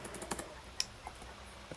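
Typing on a computer keyboard at a desk, a close run of light, irregular key clicks with a few sharper taps, fairly quiet and with no talk.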